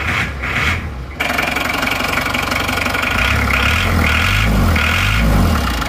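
A diesel engine with new NPR liners and piston rings runs nearby with a rough, knocking idle, then revs up into a louder, pulsing drone.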